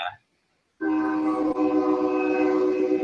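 A passing train sounds its horn, a loud sustained harmonic blast that begins abruptly after a moment of silence and holds to the end, with a faint voice at the very start.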